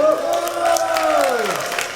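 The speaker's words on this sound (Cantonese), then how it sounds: "俾掌聲佢先啊！" A school audience cheers and applauds at a student event, with a long sliding whoop standing out over steady crowd noise for about two seconds.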